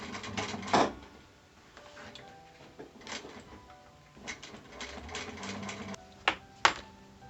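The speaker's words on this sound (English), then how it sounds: "This will be our strap. I'm going to sew these on." A sewing machine stitching nylon straps onto a zippered Bible cover, running in short uneven bursts with mechanical clatter and pauses between them, close by and moderately quiet.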